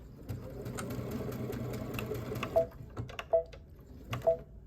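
A Brother ScanNCut sewing machine back stitches to lock a seam, its steady mechanical whir running continuously up close, then breaking into a few short stop-start bursts near the end.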